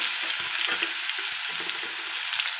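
Ginger garlic paste fries in a hot pan for a Tamil taro root stir-fry, a steady loud sizzle with faint crackles and the occasional stir.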